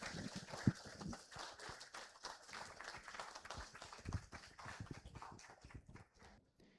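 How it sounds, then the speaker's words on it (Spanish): Applause from an audience at a Spiritist school gathering, a dense wash of many hands clapping steadily for several seconds before thinning out near the end, with no talk over it. "Osiel Aarón Fernández, para quien pido un fuerte aplauso."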